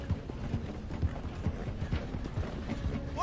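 Galloping horse hooves in Red Dead Redemption 2 pound in a steady, rapid rhythm throughout, close and fairly loud over a rumbling game background, with no talk during the run.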